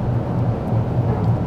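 Car tyres rumble over white road line markings on a drive, a steady low droning roar with a faint pulsing texture, continuous and fairly loud, without speech.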